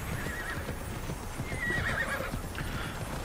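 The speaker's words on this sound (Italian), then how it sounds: "dei cavalli" Horses in the video game Immortals Fenyx Rising neigh and whinny over a steady clip-clop of hooves, fairly close and moderately loud, with no talking.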